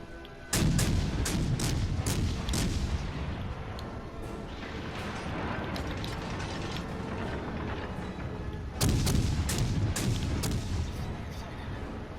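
Heavy naval gunfire from the Worcester cruiser in World of Warships Legends, a rapid series of loud booming shots, pausing briefly before another burst, over a continuous rumbling battle background.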